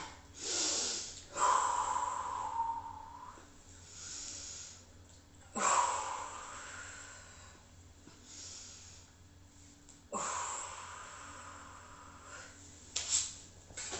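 Deep, audible breaths during a floor exercise in a cardio boxing class: three long, close inhalation and exhalation cycles, each with a sharp airy onset and a slow fade, spaced a few seconds apart.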